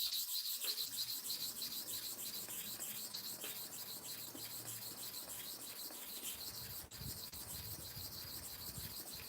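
A barber's blade is rubbed back and forth on a sharpening stone with slow, light strokes, giving a steady faint grinding and scraping that continues throughout at close range, with no voices.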